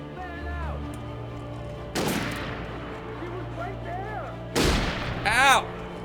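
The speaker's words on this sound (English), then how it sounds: "They're shooting me!" Sharp, loud gunshot blasts from the game Alan Wake burst out twice over a droning ambient backdrop, one at a time, with a voice speaking in between.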